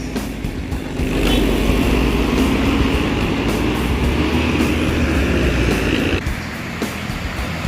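An NPM Executive Plus Black Suite V55 bus, full of passengers, pulls away with a rising engine drone that holds steady and loud, then eases near the end.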